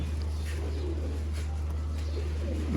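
Pigeons coo repeatedly close by, soft throaty calls over a steady low hum, with a faint chirp now and then; a red-cheeked pure Indian pigeon pair.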